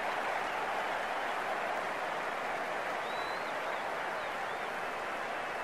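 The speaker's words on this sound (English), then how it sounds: "The crowd on their feet." A stadium crowd in the Cricket 19 video game, a Big Bash League match between Melbourne Stars and Hobart Hurricanes, roars and claps in a dense, steady wash of applause with no pauses.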